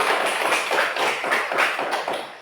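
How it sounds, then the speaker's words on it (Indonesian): A group of children in a Catholic religious education class applauding the first group, a dense, steady burst of clapping heard up close for a couple of seconds. "tepuk tangan untuk kelompok 1"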